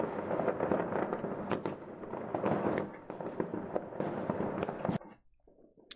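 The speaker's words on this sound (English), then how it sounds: "There's still some more going off on the side, so fireworks on the side are overrepresented this year" Fireworks bursting at a New Year display, a dense run of loud crackling pops and booms for about five seconds that cuts off sharply, leaving faint background noise.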